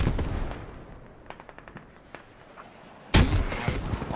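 A sudden, loud grenade blast in Squad erupts near the end after a stretch of distant scattered gunfire, with a broad rumbling burst.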